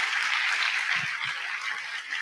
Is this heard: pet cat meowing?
no